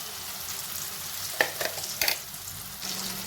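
A mustard mixture goes into hot oil and is stirred, giving a soft sizzle with a few sharp clinks and scrapes of the spoon midway, fairly quiet and close.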